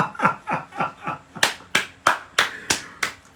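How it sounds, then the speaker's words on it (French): A few people clap at a political gathering, about nine sharp separate claps in a steady rhythm, close and fairly loud, growing crisper partway through. "Mais il faut applaudir les amis, il faut applaudir."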